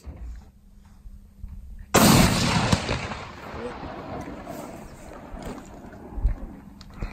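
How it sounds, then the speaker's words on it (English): A borrowed hunting rifle fires one loud shot while checking zero on a mule deer hunting ranch, a sharp blast followed by a long rolling echo and outdoor noise. "borrowing a rifle and shooting right now"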